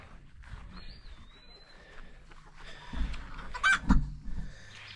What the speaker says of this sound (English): I hear them chicks in them weeds somewhere